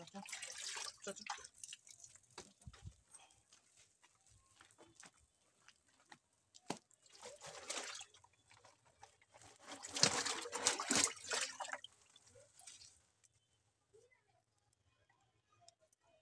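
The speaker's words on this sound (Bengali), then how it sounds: "আমি এখানে কল চালু করে দিয়েছি, এখানে জল পড়ছে, তো জলটা ভরে যাক" Tap water running into a fish tank used for an alligator gar, heard as faint, irregular trickling and splashing in bursts, loudest near the end and then fading to quiet.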